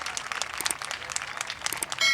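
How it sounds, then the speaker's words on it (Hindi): Audience clapping at a conversation session of an Urdu conference in Karachi, a steady patter of many hands that continues for a couple of seconds at moderate level. "बजा ले तालियां खुल के बजा ले"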